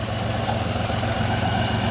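A car engine with a small exhaust leak idles steadily nearby, a low, even rumble with a faint rhythmic pulse and no talking.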